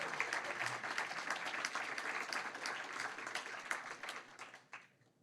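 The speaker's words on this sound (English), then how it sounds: "Can we give them a round of applause, please?" University lecture audience gives a steady round of applause, a dense wash of clapping that holds for several seconds and then tapers off to quiet at the end.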